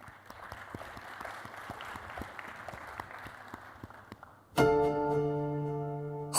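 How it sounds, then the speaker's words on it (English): Audience at a space debate in Abu Dhabi claps for welcomed guests, a soft scattered patter of hands that fades out, then gives way abruptly to a loud sustained musical tone near the end. "Please let's give them a big round of applause."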